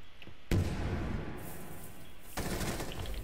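Gunfire in Rainbow Six Siege from a rifle fitted with a holo sight: a sharp opening shot, then a dense, loud stretch of rapid fire that surges again near the end, with no talking.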